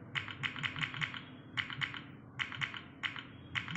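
Mechanical-style key press sounds from an Android phone keyboard app, rapid crisp clicky taps in quick bursts of several keystrokes separated by short pauses, close and clear with no talk.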